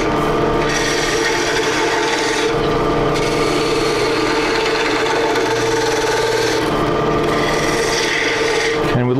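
A wood lathe spins a hollow form while a turning tool shaves and scrapes the wood, giving a loud continuous rasping hum with a steady motor tone and brief breaks in the cutting, close by.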